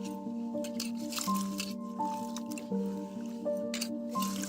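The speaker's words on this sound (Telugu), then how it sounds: "ఎడజొన్నలు ఇలా పురిమి పురిమి కడిగితే మొత్తం పొట్టు మొత్తం పోయి మంచిగా గింజలు బయటకు వస్తాయి" Sorghum grains rubbed and washed by hand in water to strip the husk, giving steady close wet squishing and dripping with rhythmic sloshes under a tonal background hum.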